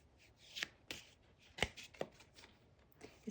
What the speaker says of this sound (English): It's so interesting for that card to have come out whenever I was shuffling.